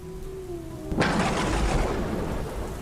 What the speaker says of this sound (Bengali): প্রবল বৃষ্টির শব্দে ঘুম ভেঙে যায়